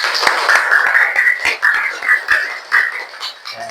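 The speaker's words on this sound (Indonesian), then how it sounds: "Beri tepuk tangan untuk kelas ini semua." A classroom of students claps together in a short, rhythmic burst, close and fairly loud, with voices calling out over the clapping.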